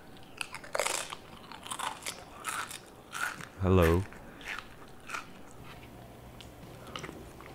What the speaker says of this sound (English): Number 10 is person chewing food with an open mouth